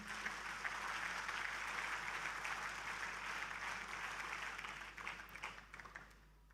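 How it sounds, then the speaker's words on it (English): An audience at a formal stage ceremony gives a sustained round of applause, a dense, even wash of clapping that stays steady for several seconds and then thins out and tapers off toward the end. "can we have a round of applause for him?"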